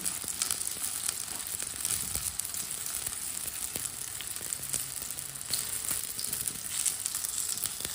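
Flatbread cooks in a thin layer of oil on a pan, giving a quiet, even sizzle that crackles softly and continuously throughout.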